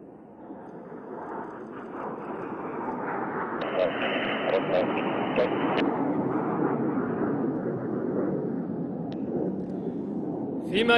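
A pair of Saudi Hawks jet aircraft pass at an air show, a rising then sustained jet roar building over several seconds, with a voice commentating over the noise.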